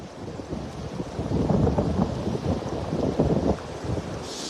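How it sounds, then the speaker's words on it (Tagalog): Strong wind buffets the microphone on a rainy day out net fishing, a loud, continuous low roar with surging gusts and a faint hiss of water behind it. "Yan, lakas pa ng hangin."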